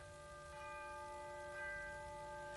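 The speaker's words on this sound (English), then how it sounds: "Chiming midnight." A clock or church bell chimes midnight: steady, sustained ringing tones that hang evenly through the moment, with a slight swell midway, heard alone at a moderate level with no voices.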